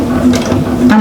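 A sewing machine sewing a back stitch in a bag project, a loud, close, rapid mechanical whir with a steady pitched hum throughout.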